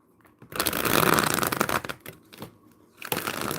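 Tarot cards riffle and shuffle close up in a quick rustling burst, followed by a few shorter shuffling flicks.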